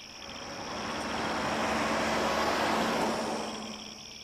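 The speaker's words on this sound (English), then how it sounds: "One night, a passing car gave me the clue." A car passing at night on a road, a soft broadband whoosh that swells to a peak and fades away over a few seconds, heard alone at moderate distance.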